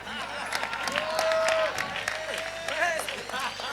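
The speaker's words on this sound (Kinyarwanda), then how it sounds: "muha amashyi father" Applause from an audience at a live comedy show, a steady wash of clapping that swells in the middle and carries on beneath someone talking.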